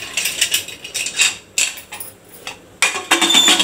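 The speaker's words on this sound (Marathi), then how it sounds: "आपण आता झाकण लावून घेऊ।" Metal clatter of a lid being set on a cooking pot of meat curry with added water in a home kitchen, several sharp clinks and scrapes, the loudest burst near the end.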